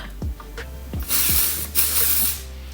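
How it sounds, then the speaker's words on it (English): Several short bursts of dry shampoo aerosol spray hiss onto hair, close and loud, with brief pauses between puffs, preceded by a few soft clicks. "I do a little spray back and forth like that"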